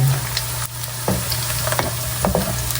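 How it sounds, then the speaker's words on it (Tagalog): Garlic fries until crispy in hot oil, a steady close sizzle and crackle with a few louder pops and stirring scrapes, no voices. "Gagawin po natin crispy yung bawang. Para po yung amoy ng bawang maiwan sa mantika."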